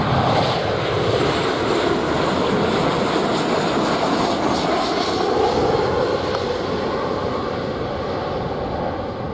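Light aircraft engine drone during approach to runway 07 at Montego Bay airport in Jamaica, a steady broadband roar that stays loud and close throughout.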